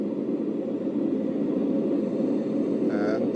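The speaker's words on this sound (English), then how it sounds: "Now the sound you're hearing right now is one of the fan preset sounds." A white noise sound machine runs its fan preset, giving a steady, even whooshing hiss with a soft low hum. It plays alone and without a break, with a faint brief tone near the end.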